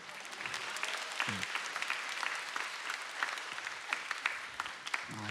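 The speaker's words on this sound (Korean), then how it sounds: "박수 치려면 치고" Congregation in a church service applauding, a dense, steady wash of many hands clapping indoors for several seconds, with a few low thumps.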